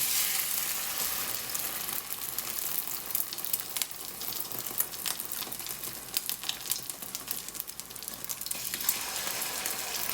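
Mutton kheema cutlet coated in whisked egg yolk fries in a pan with a steady, close, dense sizzle and crackle that holds for the whole stretch, with no voices.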